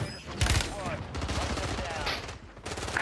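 Rapid bursts of video game gunfire crackle in clustered volleys, loud and close, with several sharp shots spread across the moment and no talking.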